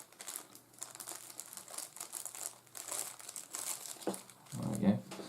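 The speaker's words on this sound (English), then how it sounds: "take the plastic bag off" Plastic bag crinkling as it is pulled off a bushcraft knife during an unboxing, a soft rustle near the mic that swells into a louder crumple at the end, with someone talking over it.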